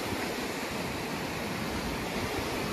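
Sea waves at high tide breaking on the shore at Whitby, a steady, dense roar of surf that fills the air continuously and loudly, with no voices.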